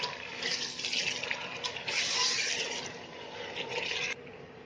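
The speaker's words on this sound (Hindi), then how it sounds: "मटन डालकर इसको हम 1 से 2 मिनट अच्छी तरह से भून लेंगे।" Mutton pieces frying in hot oil in a pot for nihari give off a steady, fairly loud broadband sizzle that swells and dips over a few seconds, with no talking.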